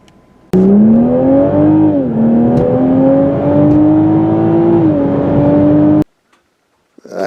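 A 2022 Toyota Supra six-cylinder engine in sport mode pulls hard for about five seconds, a loud, close, rising drone with two brief dips at gear shifts, then cuts off abruptly into near silence.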